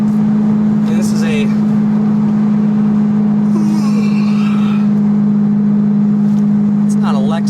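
A 1999 Ferrari 550 Maranello cruises in sixth gear at highway speed, its engine a steady, even drone held at one pitch throughout, with road and wind rush above it and brief voices over the top.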